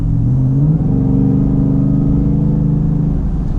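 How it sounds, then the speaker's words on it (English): A supercharged 2018 Roush F-150 pickup truck revs up close and loud, a deep steady engine roar that climbs in pitch early on and then holds high for a few seconds. "See if you can hear that Supercharger"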